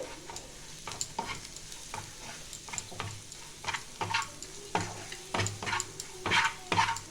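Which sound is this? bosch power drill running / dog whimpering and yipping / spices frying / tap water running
spices frying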